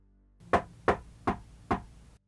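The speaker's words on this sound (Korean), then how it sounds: "10시 30분 코라존의 방문을 두드리는 소리가 들려왔습니다" Four evenly spaced knocks on a dormitory room door, firm and close, in a quiet setting.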